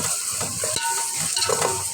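Tomatoes and onions for dalcha sauté in a pan, giving a steady sizzle with scraping stirs and small clinks, fairly close and loud with no talking.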